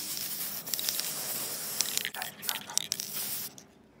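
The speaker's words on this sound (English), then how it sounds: "I'm going to spray paint two rose gold" An aerosol can of rose gold spray paint hisses in short and longer bursts of spray, close and fairly quiet, with small handling noises between.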